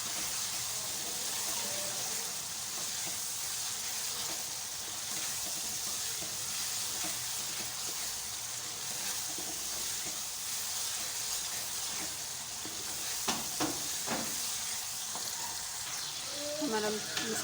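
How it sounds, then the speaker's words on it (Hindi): Masala gravy for besan kadhi sizzles and fries in a pan, making a steady, even hiss throughout, with a few brief scraping stirs near the end. "इसको अच्छी तरह से मिक्स करेंगे।"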